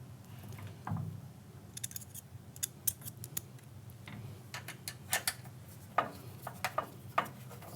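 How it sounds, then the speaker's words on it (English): A 1/8 inch Allen key drives a hinge screw into a WinDoor BF1199A/BF1099A bi-fold door panel during a masonry installation, giving a close, quiet run of small irregular clicks and ticks with no talking. "With my 1/8 inch Allen key, I'm going to attach the hinge screw to the panel."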